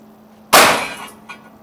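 A Sanaji Neo Class OD 25 air rifle fires a single sharp, loud crack that rings briefly and fades, followed by a faint small knock.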